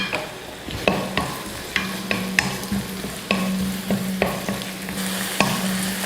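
Onion and garlic frying in melted butter, a steady sizzle with repeated stirring scrapes and clinks of a spoon against the pan, close and continuous with no talking.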